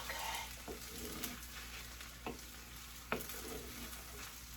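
Vegetables stir-frying with soy and oyster sauce give a steady soft sizzle, with a few sharp utensil taps and scrapes against the pan breaking through.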